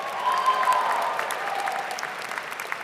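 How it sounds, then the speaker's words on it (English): Audience applause and cheering fill a commencement ceremony at Michigan Ross, a dense steady clapping with a brief whistle near the start, fairly loud and continuous throughout. "I love that they all have their own cheering section."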